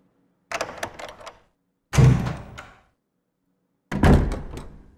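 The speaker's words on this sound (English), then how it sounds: "With that key that I just got, the emblem key, it opens this door and this door only." Emblem key used on a mansion door in Resident Evil Remastered: a key clicks and rattles in the lock, then two heavy, booming door thunks follow with pauses between, loud and close in otherwise silence.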